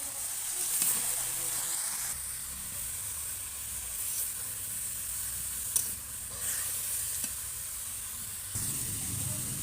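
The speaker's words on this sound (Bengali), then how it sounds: "এইবার শাকটাকে আমি উল্টিয়ে দেব।" Pea and grass pea greens frying in a pan, a steady close sizzle and hiss with occasional scrapes and taps as they are turned, no talking.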